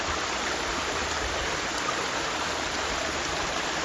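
A steady rushing of a flowing stream at Smuggler's Notch, Vermont, an even broadband hiss that holds constant throughout, with no talking.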